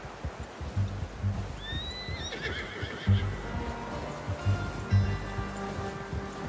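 A horse in Red Dead Redemption 2 lets out a rising, wavering whinny over repeated hoof clip-clops and a low rumbling background, the neigh loud and close, with no one talking.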